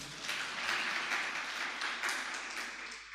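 An audience at a religious discourse by a Jain monk claps in a faint, continuous patter of applause that holds steady throughout, distant and soft.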